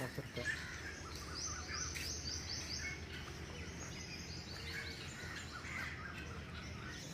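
Partridges calling in Lal Suhanra National Park, their repeated chirping notes carrying from some distance over a constant hum of insects and open-air ambience.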